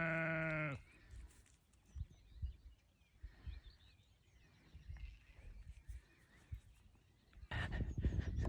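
Lambs and sheep on a farm during lambing season, with a loud, close bleat opening the recording, scattered rustling and faint calls through the middle, then another strong bleat rising at the end.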